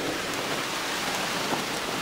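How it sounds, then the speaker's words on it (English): Heavy rain pours steadily in a dense, continuous hiss of drops on surfaces, close and even, with no voices. "It's raining real hard."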